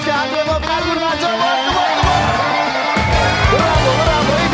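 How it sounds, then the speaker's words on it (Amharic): A TV studio audience claps and cheers loudly and continuously during a timed contest, with music and a host's excited voice mixed in. "አጨብጭቡላቸው እስኪ አንዴ ሞቅ አድርጉላቸው።"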